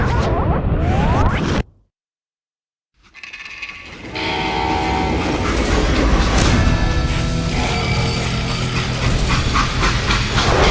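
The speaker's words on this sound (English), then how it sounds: "They hopped a freight train," A freight train in the Western game Call of Juarez: Gunslinger, with a loud horn blast, a sudden drop to silence, then a steady rumbling, clattering roll of rail cars that grows and continues to the end.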